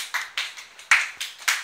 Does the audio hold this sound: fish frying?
no